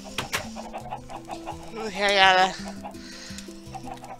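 Chickens cluck in the game Minecraft, a few short clucks and one louder squawking burst in the middle, heard close under a voice talking.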